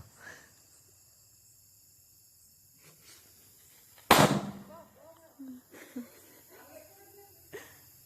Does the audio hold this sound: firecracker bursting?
yes